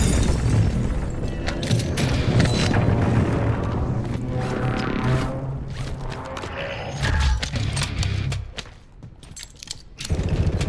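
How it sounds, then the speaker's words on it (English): Enemy precision airstrike in a video game: a sustained roar of heavy explosions and rumbling blasts with crackling debris, a deep boom near the end, then a short drop in level before the noise resumes. "enemy precision airstrike"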